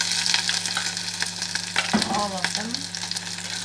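Shrimp hit a hot pan for a simple shrimp laksa and sizzle loudly and steadily throughout, with brief stirring clatter and a short spoken remark over the frying.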